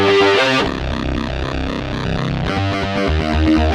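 An aggressive, vicious user patch from a Yamaha MOX6 workstation synthesizer blares loud and distorted, sustained chords shifting midway before a bright restrike near the end, with no voices.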